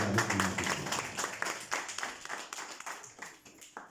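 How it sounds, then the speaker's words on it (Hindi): An audience claps through a live stage performance, a steady patter of many hands ringing out close by and gradually thinning toward the end. "अच्छा, जहाँ तालियों की ज़रूरत है बजा दीजिएगा"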